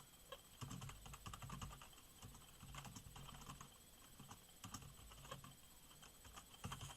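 Slow typing on a computer keyboard during a keyboard test, a steady stream of quiet close clicks and clacks with uneven rhythm and no voice.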